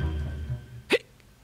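A single sharp hiccup in a Swedish children's story recording, a short voiced gulp that follows low, murmured speech.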